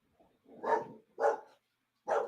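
A dog barks three times indoors at close range, with a soft lead-in before the first bark and a short pause before the last.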